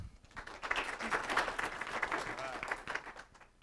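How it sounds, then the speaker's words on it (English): An audience gives a round of applause for a team at a social media class, steady dense clapping for several seconds that swells and then fades, with crowd murmur blended in. "let's give a round of applause and welcome to our Catapult team again"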